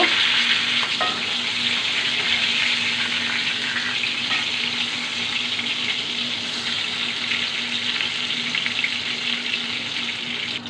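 Eggplant slices sizzle and fry steadily in a hot pan, a dense, even crackle that stays loud and close without pause and is heard alone with no talk.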